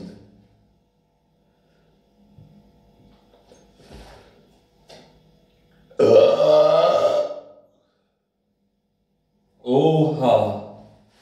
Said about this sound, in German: Also von der 2 kann ich richtig gut rülpsen.